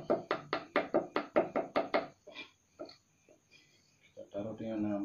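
A knife chopping ingredients for Balinese pepes ikan, a fast run of about a dozen even knocks on a board, then a few scattered taps before a voice comes in at the end.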